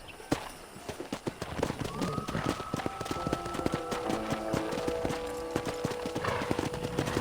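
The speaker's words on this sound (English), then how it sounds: "That ranch hand said there's a pack of wild horses nearby." Wild horses in the video game Red Dead Redemption, hooves pounding in rapid galloping clip-clops with drawn-out neighs and whinnies rising over them, loud and close.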